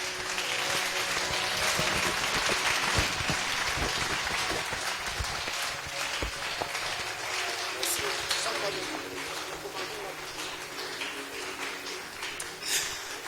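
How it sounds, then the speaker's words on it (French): A church congregation applauds steadily during a service, a dense wash of clapping that runs the whole time with voices mixed in and a slight fade toward the end. "Voilà, tu acclames très bien pour le Seigneur."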